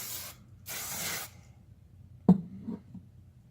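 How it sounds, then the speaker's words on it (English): Two short bursts of hairspray hiss, each about half a second long, close and clear, during hair styling after curling with a flat iron. They are followed by quieter rustling and handling sounds. "And then you just do one final little spray"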